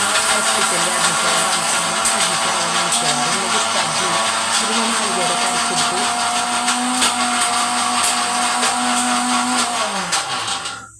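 A mixer grinder grinds coconut with fennel seeds in a home kitchen, a loud steady whirring drone running nearly the whole time before cutting off at the end.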